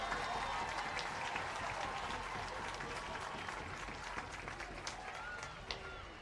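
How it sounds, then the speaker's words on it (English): Crowd applause at a school football game for a 7th and 8th grade middle school football team, a broad, steady wash of clapping from a distant outdoor audience, faint and continuous. "Nice round of applause for your 7th and 8th grade Republic Middle School football Tigers."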